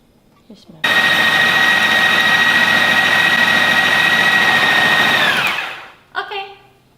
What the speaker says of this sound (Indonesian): Kita blender dulu ya dagingnya.